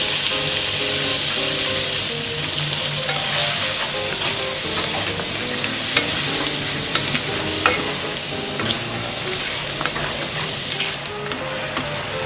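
Blue swimmer crab stir-fried with curry powder in a hot pan, a steady loud sizzle with scraping and clattering of a spatula stirring throughout, no talk.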